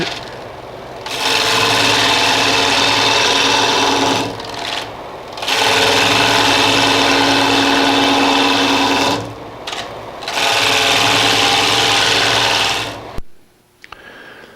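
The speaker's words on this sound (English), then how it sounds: "The push cut means that the bevel is always on, so the bevel is supported against the surface while I'm cutting it." A wood lathe spins a natural edge walnut bowl while a gouge makes push cuts, a loud steady shearing hiss in long sustained passes broken by brief pauses, ending with the tool lifting off.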